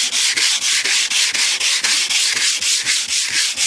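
Wet sanding of the paint on a 1988 Cadillac DeVille by hand, a loud close rhythmic rasping of about four back-and-forth strokes per second, steady and alone.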